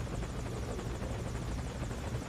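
A helicopter in Metal Gear Solid V: Ground Zeroes drones with a steady, dense rotor wash and engine roar, continuous and fairly loud throughout, with no voices over it.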